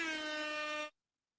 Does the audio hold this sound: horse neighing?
no